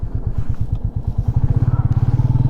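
A Royal Enfield Meteor 350 cruising along a road beside the Licking River, its single-cylinder engine thumping in a steady, close, even pulse that quickens slightly toward the end.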